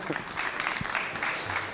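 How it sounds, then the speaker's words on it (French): Brief, fairly quiet applause from a small audience at the end of a talk on digital factories for small businesses, a short patter of clapping with a faint voice in the background. "Je crois qu'on peut les applaudir, on n'est pas nombreux, mais on va faire du bruit"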